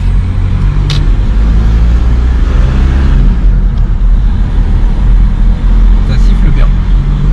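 Turbocharger whistle from an Audi A4 1.9 TDI with a replacement turbo, heard from inside the car while driving under a loud, steady engine and road rumble, with a person talking over it.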